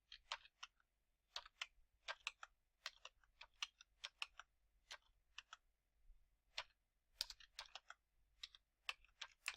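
Close, quiet typing on a computer keyboard, with sharp key clicks in irregular bursts and short pauses, alone without any talking.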